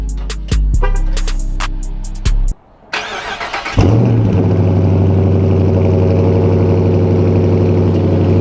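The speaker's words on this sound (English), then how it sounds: "Cold start." Cold start of a Dodge Charger R/T engine: starter cranking in several quick bursts, a brief pause, then the engine catches with a loud rev flare before settling into a steady, deep, rumbling idle.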